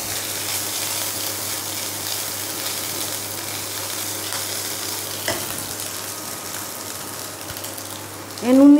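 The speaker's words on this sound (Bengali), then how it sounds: "এবার একটু ভেজে নেবো।" Two large green chillies frying in a pan, a steady soft sizzle heard close up with a light clink partway through and a brief louder scrape near the end.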